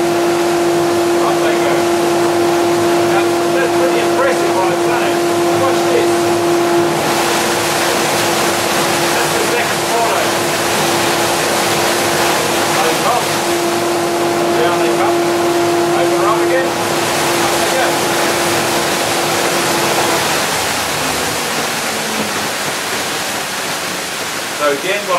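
Dust extractor turbine spinning up with only one 4-inch port open: a loud, continuous rushing roar with a steady whine throughout, fading slightly toward the end.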